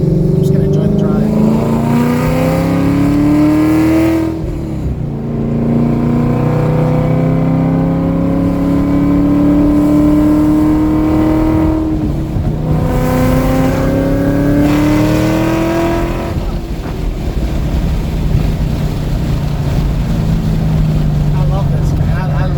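A built 2015-2017 Ford Mustang with a manual gearbox, its engine revving loud and close through rising pulls, with brief dips between gear changes and low cabin drone.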